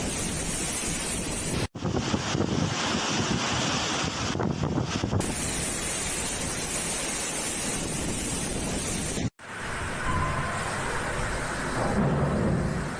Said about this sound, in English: bringing not just powerful gusts, but also a wall of heavy rain that flooded entire regions